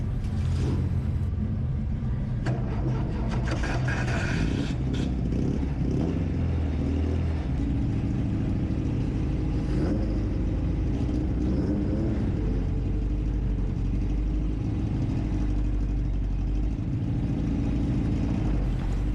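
A Formula Vee race car droning steadily on track, its engine a loud continuous low rumble heard from onboard throughout with no break and no talking.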